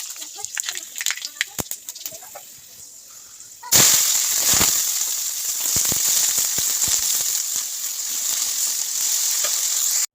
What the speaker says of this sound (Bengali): এতে গরম হয়ে গেছে, এবার পাঁচফোড়ন দিয়েছি।